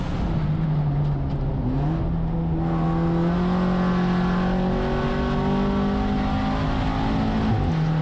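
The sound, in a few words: VW Jetta GLI touring car racing around Thunder Hill track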